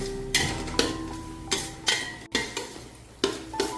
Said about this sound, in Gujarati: 3 ચમચા તેલ એડ કરવાનું અને શેકવાનું છે